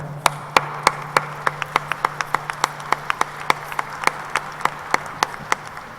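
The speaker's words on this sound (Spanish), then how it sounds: "les quiero pedir un gran aplauso" Sparse, distinct hand claps ring out one after another at a panel on national legislative harmonization, a thin scattering of applause over a steady low hum, without any voices.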